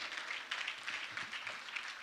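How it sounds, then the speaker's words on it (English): Faint, steady round of audience applause for Dr. Latanya Moore at the WISS2024 event, a soft continuous patter of many hands with no talk over it. "Another round of applause for Dr."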